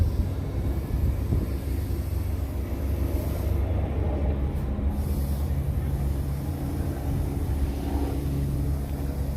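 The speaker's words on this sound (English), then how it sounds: "I hear more helicopters coming" Helicopters passing over a freeway in Los Angeles during a street protest, a steady low rumble and drone holding throughout, moderately loud with traffic-like noise around it.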